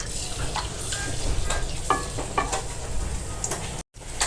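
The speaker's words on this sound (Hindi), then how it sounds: "ये देखें लहसुन हमारा रोस्ट हो चुका है" Steady crackling sizzle of chopped garlic frying in hot ghee, with faint stirring scrapes and a brief dropout near the end; no talking.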